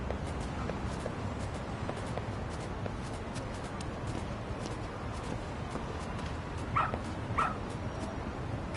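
A dog in the video game Lost Judgment gives two short whimpering yips near the end, soft and close, over steady game ambience with faint pattering steps.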